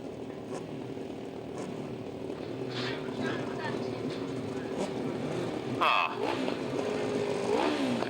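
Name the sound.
sidecar motorcycles at a grasstrack race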